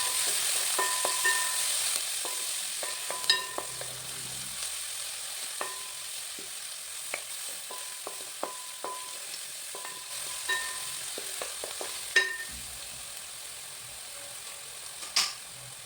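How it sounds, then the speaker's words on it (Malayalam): Onion, ginger, green chili and curry leaves sautéing in a pan for fish curry, a steady sizzle with scattered stirring clicks and scrapes throughout, close and moderately loud with no talking. "സവാളയും ഇഞ്ചിയും പച്ചമുളകും വേപ്പിലും എല്ലാം ഇട്ടിട്ട് എന്നിട്ട് അതൊന്ന് വഴക്കി എടുക്കാൻ വേണ്ടിയിട്ട്"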